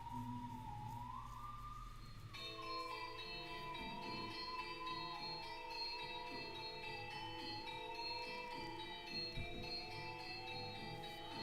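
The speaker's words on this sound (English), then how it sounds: "how long are these bells going to ring?" Video game bells ring with a sustained, shimmering tone that swells into a layered, ringing chord after a couple of seconds. The sound is steady and continuous, with no voices.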